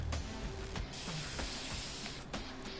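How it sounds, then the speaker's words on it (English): Spray paint hisses in short repeated bursts from the video game Infamous Second Son, each spurt a bright airy rush with brief gaps between them. "A spray here. Spray here. Spray the pants."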